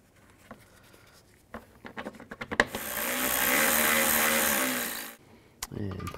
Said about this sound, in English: Get these bolts started.